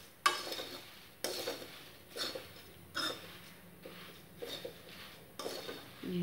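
Namkeen snack mix made with puffed khil and turmeric is stirred in a pan, giving about eight rhythmic scraping, rattling sweeps roughly one second apart, close and fairly quiet, with a faint sizzle beneath.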